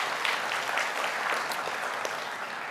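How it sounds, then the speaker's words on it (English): An audience at a licensing, disclosure and advice masterclass gives a big round of applause, dense sustained clapping filling the room throughout at a steady level. "So please give them a big round of applause."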